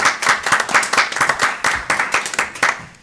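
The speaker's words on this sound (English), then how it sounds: "I think it would definitely be appropriate to clap." Indoor applause at a town board meeting, a group of people clapping steadily and fairly loudly for about three seconds with a dense, rhythmic patter of hand claps.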